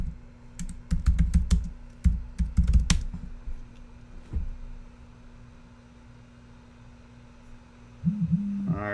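Typing on a computer keyboard while entering a search in a web browser, with a quick flurry of close key clicks in the first few seconds, then a quiet stretch with only a low hum, and a few soft sounds near the end.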